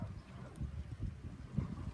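A young horse walks with irregular, soft hoof thuds on the ground, heard up close while a person speaks over it.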